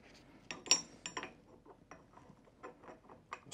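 A Honeywell Elster Instromet Q.sonic gas meter transducer slides slowly down into its metal seal housing, giving a close series of irregular scraping clicks and ratcheting metallic taps with no voices.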